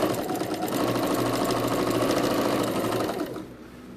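A sewing machine stitches a pink shark pencil case, running in a steady rapid mechanical whir close up for about three seconds before stopping abruptly.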